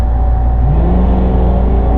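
Two drag race cars launch together from the starting line, a loud, steady engine roar with rising pitch as they accelerate away, dense and continuous throughout.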